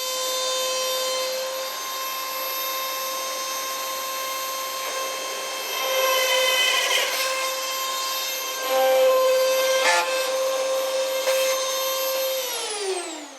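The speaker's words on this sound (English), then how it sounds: "So I'm going to use a Dremel to get to the back" Dremel rotary tool drilling a hole in a polyester fender on an MGA, a high steady whine that dips and strains as it bites into the material, then winds down at the end.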